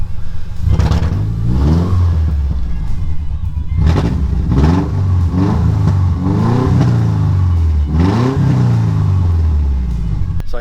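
A Subaru burnout car with a misfire, freshly treated with Seafoam, revving hard again and again, each loud rise and fall of engine pitch repeating in quick succession, close and alone without talk.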